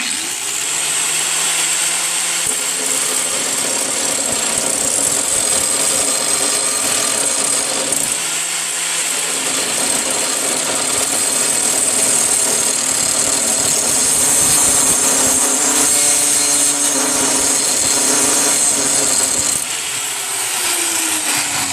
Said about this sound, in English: I'm sharpening the blades without taking them off.